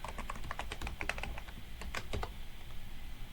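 Rapid, irregular clicking of keys being typed on a computer keyboard, close and fairly quiet, with no talking.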